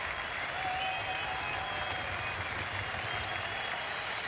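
A cricket crowd at the Gabba applauds Mark Waugh's half-century in the 1995-96 Australia vs Pakistan first Test, a steady, distant wash of clapping throughout.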